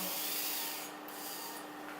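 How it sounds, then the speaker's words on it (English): A surgical drill fitted with a black-labeled bit drills a core hole over a K-wire during a TMT II–III arthrodesis, giving a steady, fairly faint high whir that dips briefly in the middle. "The black-labeled drill bit is used to drill the core hole over the K-wire."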